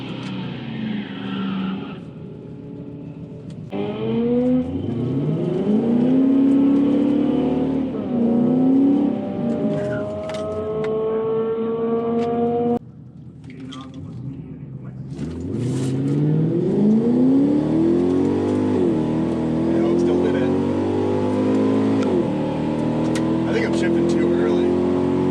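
An Infiniti Q45 sedan accelerates hard through its gears, the engine note climbing, then dropping sharply at a harsh shift into second before rising again, with a brief dip in revs between.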